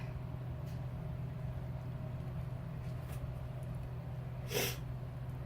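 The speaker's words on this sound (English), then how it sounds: "And I again am sorry about the sniffling." A single short, sharp sniff sounds close by against a steady low hum of room noise.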